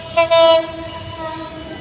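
A train approaching at night near a market and flyover construction site sounds a loud, close horn blast that cuts off abruptly, followed by a lower, sustained horn tone over a rumbling background.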